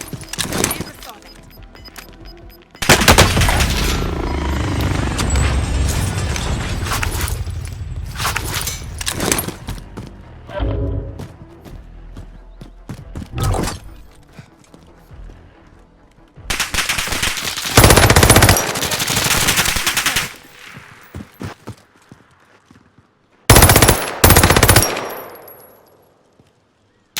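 Machine gun fire in a Call of Duty duos match erupts in several loud bursts separated by quieter stretches, with a voice speaking between the volleys.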